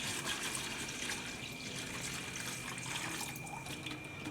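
White vinegar pours steadily in a continuous liquid trickle and splash, close and fairly quiet, with no talking, while rusty motorcycle parts are being cleaned.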